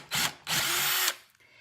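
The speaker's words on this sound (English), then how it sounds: "I will continue doing this to all of the holes, drilling in." A power drill boring holes into an empty metal can, two loud close whirring bursts, a short one followed by a longer one that spins down at the end.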